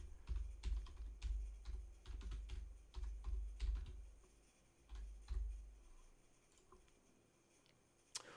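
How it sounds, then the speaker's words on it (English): Typing on a computer keyboard, quick clusters of soft key clicks in bursts with a deeper thump under them and brief gaps between, close by and with no voice. "let me just type in this"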